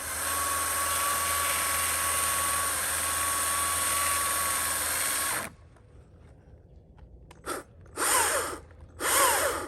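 A STIHL battery chainsaw with a 16-inch bar runs loud and steady through wood for about five seconds, then cuts off, followed by quiet and two or three short, near revving bursts.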